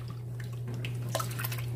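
Faint, sparse drips and small splashes of water as a purse soaks in a basin, with a low steady hum underneath and no one speaking.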